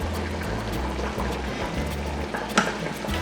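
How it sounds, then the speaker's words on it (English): Beans boiling in a pot on a home stove, a steady low bubbling and simmering rumble with a faint clink near the end, no talk over it. "I know y'all can hear the beans boiling."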